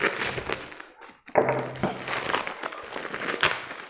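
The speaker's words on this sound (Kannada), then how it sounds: "ಸೊ ಅನ್ಬಾಕ್ಸಿಂಗ್ ಟೈಮ್ ಈಗ." Crinkling plastic packaging from an unboxed Boya vlogging microphone, close and handled in bursts with a short pause and a few sharper crackles and thunks.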